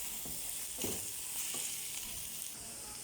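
Food sizzles steadily in a hot frying pan while a spoon stirs and scrapes through it, mixing in a ground spice for a Saudi-style dish, with a few brief knocks against the pan and no talking.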